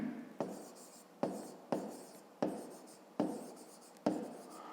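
Pen writes on paper in six short strokes, each starting with a sharp tap and trailing off into soft scratching, close and quiet, with no talking.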